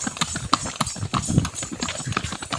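Hooves of a working horse hauling wood clip-clop in a quick, uneven rhythm close by, loud and distinct, with no talk over the steps.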